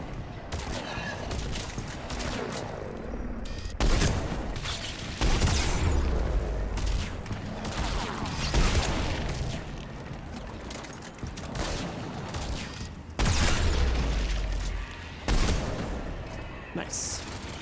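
Bursts of rapid gunfire and heavy booms in Mass Effect combat, repeated volleys cutting in and out over about eighteen seconds, loud and close, with a voice speaking now and then.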